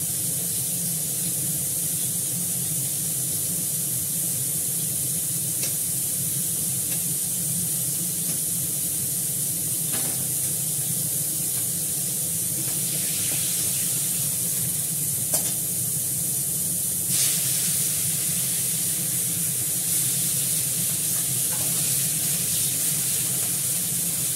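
Okra sizzling and spitting in hot oil tempered with asafoetida and cumin, a steady, even frying hiss that runs throughout with a few sharper pops.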